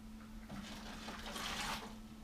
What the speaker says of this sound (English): we're just going to pour this into our 5-gallon bucket here